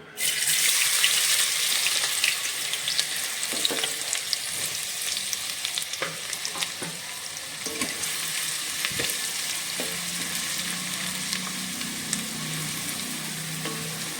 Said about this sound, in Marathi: मी मोठी पळी भरून एक तेल टाकलेलं आहे त्याच्यात हा एक मी कांदा कापलेला आहे तो टाकते